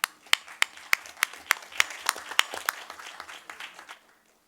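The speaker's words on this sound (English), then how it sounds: "So a big applause to you" A small board-meeting audience gives students a short, sparse round of clapping, individual claps distinct and fairly close, thinning out and stopping after about four seconds.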